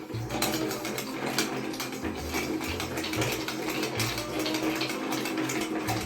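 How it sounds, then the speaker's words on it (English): A stirring spoon swirls an Old Pal Boulevardier cocktail, heard as a continuous close rattling churn of ice against glass with a steady rhythm and no pauses or talk. "Then we want to grab our stirring spoon, put it in, start stirring."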